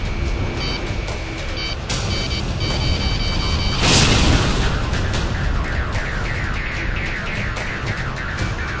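Explosion of a destroyed ground target in the combat flight game Ace Combat 6: a loud broadband blast swells around the midpoint over a constant roar of jet and battle noise, with repeating electronic warning tones.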